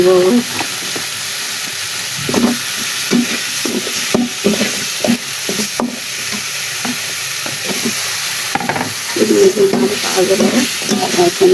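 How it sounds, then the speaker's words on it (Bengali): Spice masala fries and gets stirred in a pan for a chicken feet curry, a continuous sizzle under repeated spoon scrapes and clinks, close and fairly loud, with a faint voice briefly in the background. "আমার মশলাটা ফ্রাই কষানো হয়ে গেছে"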